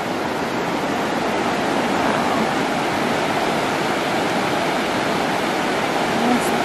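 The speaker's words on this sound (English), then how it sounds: "I love the sound of the water." A cold stream at a summer campground in the Pacific Northwest rushes in a loud, steady broadband roar close by, unbroken for the whole stretch.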